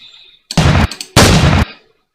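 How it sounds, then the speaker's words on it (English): Gunfire sound effect placed in an animation edit: two loud, dense bursts of shots, each lasting about a third of a second, separated by a short gap and standing alone without talk. "The gunfire, right?"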